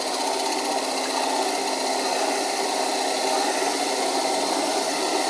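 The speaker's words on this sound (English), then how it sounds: "It's not a very powerful motor, so I can't take too deep a cut at any given time." A weak motor drives a 3D-printed lathe as it cuts PLA, giving a steady, close whirring drone with an even, unbroken texture throughout and no talking.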